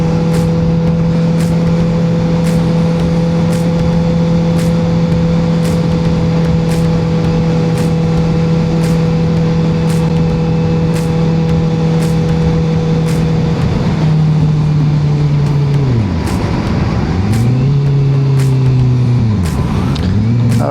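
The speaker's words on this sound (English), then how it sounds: "I always try to engine brake as much as possible to save the brakes." A steady motorcycle engine drone that slowly drops in pitch, with deep downshifting swoops near the end as the engine winds down under engine braking.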